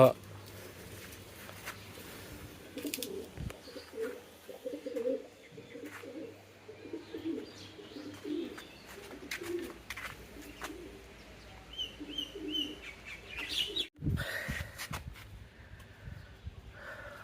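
Pigeons coo softly and repeatedly in the background while a person talks nearby, with occasional rustling and shuffling sounds.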